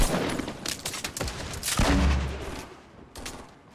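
Gunfire in the video game Fortnite crackles in rapid bursts of close, sharp shots, with a heavier boom midway before the shooting fades.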